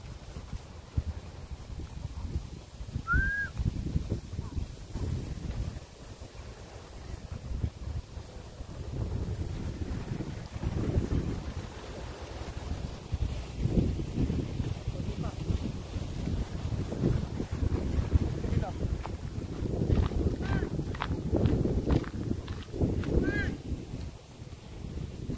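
Strong wind roars and rumbles against the microphone in long, shifting gusts, with faint voices and a few thin squeaks in the background.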